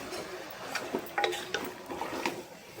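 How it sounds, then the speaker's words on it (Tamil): One kilogram of chicken being stirred in a pot for biryani, with scattered light metallic clinks and scrapes of a spoon against the pot, close by and fairly quiet with no talking. "அந்த சிக்கனை எடுத்து போடுறோம். போட்டுட்டு அதையே கிண்டி விட்டுக்கலாம்."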